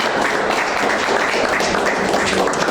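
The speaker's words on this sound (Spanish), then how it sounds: "Vamos a darle un aplauso." An audience claps for a poet about to recite at a cultural gathering in Asturias, a dense, even patter of many hands that continues steadily without talk.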